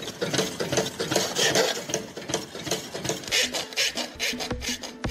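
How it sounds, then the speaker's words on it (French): A pedal-powered fretsaw cuts through a wooden piece, giving a steady rapid rasping and buzzing with a regular mechanical rhythm from the pedaling, close and continuous. "En pédalant, Charlène active la scie pour découper des trous dans la pièce."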